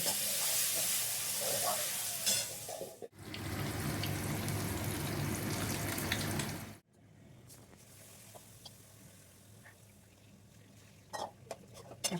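Eggs fry in hot oil in a pan, a steady close sizzle that swells for several seconds, then drops away to quieter sizzling with occasional clinks.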